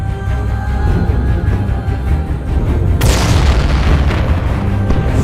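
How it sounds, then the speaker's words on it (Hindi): Artillery fire and explosions rumble as heavy, continuous booms in a wartime scene, loud and dense, with a sharper, brighter blast surging in partway through. "भागो! इंडिया ने फायर खोल दिए।"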